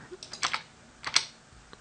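Quick keystrokes on a computer keyboard while entering a Python debugger command, a short cluster of clicks followed by a second burst and a final light tap, close and clear with no talking.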